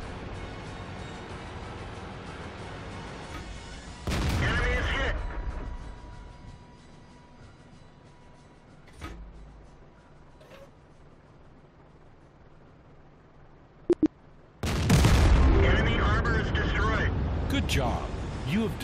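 World of Tanks tank cannon shots during a tutorial battle, two heavy booms with rumbling tails a few seconds apart. Engine drone fills the spaces between, and a tutorial voice speaks.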